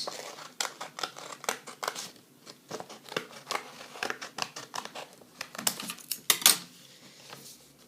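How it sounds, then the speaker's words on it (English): Scissors snip through paper in a steady series of crisp, close cuts, with faint rustling between strokes. "Grab the scissors and cut"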